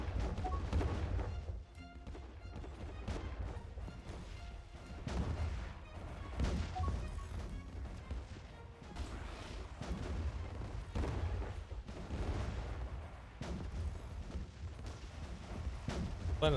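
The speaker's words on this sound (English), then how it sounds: "We need to start bombarding this planet." Planet bombardment in the space strategy game Distant Worlds 2: dense, continuous rumbling barrage of booming impacts and crackling blasts, loud and steady throughout with layered game effects and no voices.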